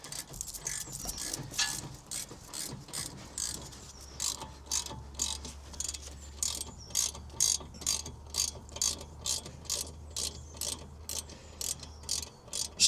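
Ratchet wrench working loose the brake caliper sliding pins on a 2018 Ford Transit Connect Mk2, a quick run of close, rhythmic metallic clicks repeating steadily.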